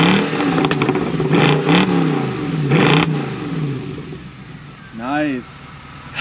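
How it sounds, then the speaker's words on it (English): A 2009 Mercedes-Benz C63 AMG engine idles with a low rumble, then revs up in a few short bursts. Loud and close, with a person talking over part of it and a rising whine near the end. "When it warms up a little bit more, I'll be able to do different revs."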